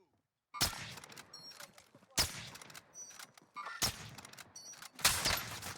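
Gunfire in Call of Duty Warzone during a late-match firefight: four loud, sharp bursts of rapid shots, spaced about a second and a half apart, each fading into a short rattling tail.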